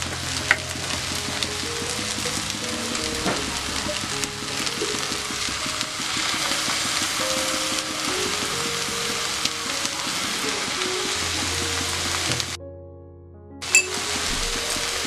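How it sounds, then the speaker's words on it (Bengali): Chow mein tossed in a hot pan with a teaspoon of vinegar and two of soy sauce, a loud continuous sizzle with scraping stirs and clinks, broken by a brief pause near the end. "চাউমিনটা মিশিয়ে নিচ্ছি।"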